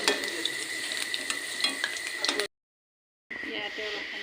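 Potatoes and spices frying in oil in a pan, a bright continuous sizzle with clattering stirs, cutting out briefly to silence before resuming.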